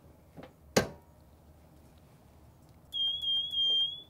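A heat press timer alarm sounds after a 400-degree, 75-second dye sublimation press of an FRP coaster insert: a single sustained electronic beep, loud and steady for about a second, following a sharp clack, with no talk.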